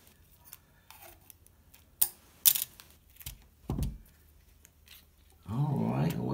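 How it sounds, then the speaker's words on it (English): Plastic spoon handles being cut off for a napkin-holder craft make a few sharp, close snips and crunches scattered over several seconds, followed by a brief rustling scrape in an otherwise quiet room. "Okay, so you trim off most of the handle."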